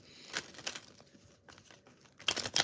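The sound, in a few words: shuffling tarot cards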